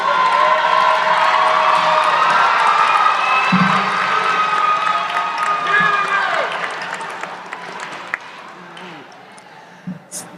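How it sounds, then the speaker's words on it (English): A commencement crowd of college graduates applauds and cheers their families, loud sustained clapping with whoops filling the hall, then gradually tapering off into scattered claps. "give a round of applause to your families and everyone who's helped you get through this point"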